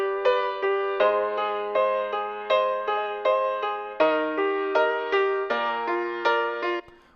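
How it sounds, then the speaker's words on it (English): Steady indie pop piano part holding the groove with evenly repeated chords, a clear rhythmic pulse of sustained notes and regular attacks, loud and alone without voices. "I wanted the pianos to kind of do something just a little more stationary, just to kind of hold the groove down"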